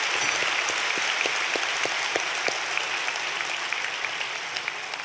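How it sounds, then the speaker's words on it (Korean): Congregation applauding during a special early-morning church prayer service, a sustained wash of many hands clapping at moderate volume with scattered sharper claps, fading gently toward the end. "안내하신다고 수고하신 분들 한번 박수로 한번"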